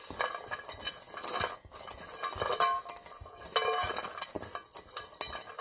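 Crispy sourdough pasta snacks with garlic are tossed in a pan, producing irregular rattling scrapes and light clinks of pieces shifting against metal, close and uneven, with no talking.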